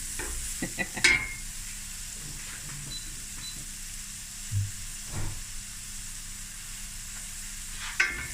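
Onions and garlic fry in a pan with a soft, steady sizzle, broken by a few sharp scrapes and clicks of stirring, close and fairly quiet, with no talk.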